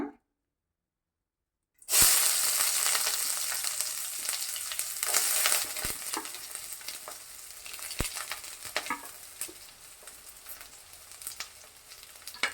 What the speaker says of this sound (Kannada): ಎಣ್ಣೆ ಕಾದ ಮೇಲೆ ಈರುಳ್ಳಿ ಹಾಕ್ಕೊಳ್ಳೋಣ